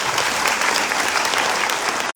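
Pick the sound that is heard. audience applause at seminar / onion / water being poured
audience applause at seminar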